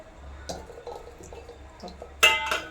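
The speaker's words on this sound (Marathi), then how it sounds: "आता हे बटाटे उकडायला टाकते बघा" Four potatoes dropped into water in a pot for boiling, with scattered drips and small splashes followed by a louder clatter and splash near the end, heard close up.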